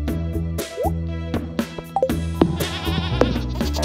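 A goat in the farming video game Stardew Valley bleats in short, wavering cries over cheerful game music and small plopping effects.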